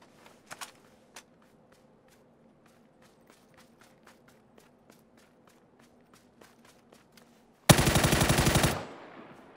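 A P90 submachine gun in a video game fires one long, loud, dense automatic burst near the end, after several seconds of quiet footsteps and small clicks.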